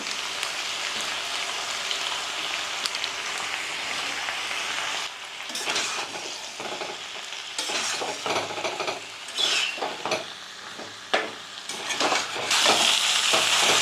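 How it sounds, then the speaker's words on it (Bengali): Chicken pieces sautéing with chicken masala in a pan, a steady broadband sizzle with intermittent scraping stirs that grow busier and louder toward the end, close and with no talking. "চিকেন মশলা দিয়ে আরও ভালোভাবে আমি কষাবো"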